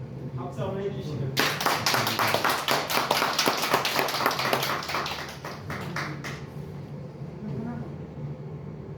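A church congregation bursts into sustained applause, dense rapid clapping that rises and then tapers off, with a voice speaking before it starts.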